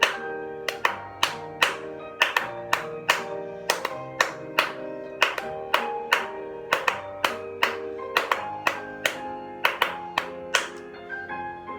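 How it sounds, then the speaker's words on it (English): At a ballet class, hands clap steadily on the beat along with a melodic piano-like tune, the sharp regular claps sitting clearly over the music. "Let's clap it with the music."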